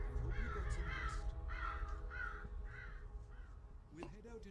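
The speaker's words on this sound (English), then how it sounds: "Thank you, Mr. Crow." A crow caws repeatedly in a mountain setting in the Everest VR game, several harsh calls in a steady series over a low rumbling background, with a voice briefly heard near the end.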